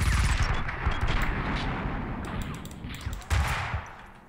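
Gunfire in the Max Payne 2 video game, a sniper rifle among dense overlapping shots, forming a loud continuous barrage with a sharper blast near the end.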